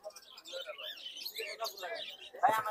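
Birds chirp and tweet at a Bangladeshi bird market where white doves are sold, with short repeated calls close by. People's voices are mixed in, and a louder call comes near the end.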